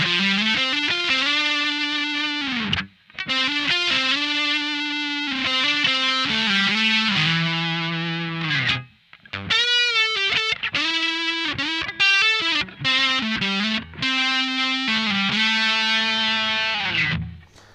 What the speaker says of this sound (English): let's jump over to the DS-1 with its distortion setting also cranked and hear that lead work